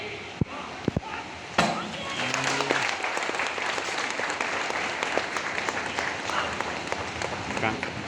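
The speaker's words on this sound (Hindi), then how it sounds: "तालियां जरूर बजाइएगा।" At an outdoor Border Security Force raising day parade, a few sharp isolated claps and thuds give way to broad, sustained crowd applause heard from a distance, with voices faintly underneath.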